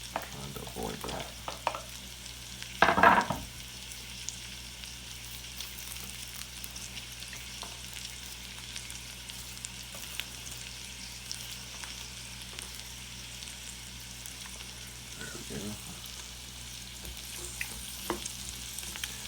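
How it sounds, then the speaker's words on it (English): Onion frying in bacon fat on a stovetop, a faint, steady low sizzle with a louder clatter of stirring early on and another brief scrape later. "onions kind of cooked down and caramelized, mixed with that bacon fat"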